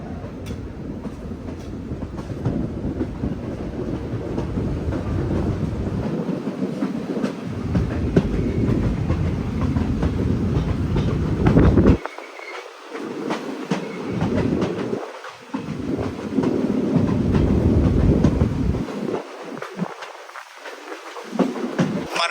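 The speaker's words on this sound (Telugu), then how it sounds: "ట్రైన్ అయితే ఇప్పుడు ఎస్ షేప్ లో అయితే ట్రైనింగ్ తిరుగుతుంది అనమాట" A train rumbles along its rails on the Kollam to Sengottai line, steady clattering and rolling noise close by, with brief dips as the wheels pass over changing track on an S-shaped curve.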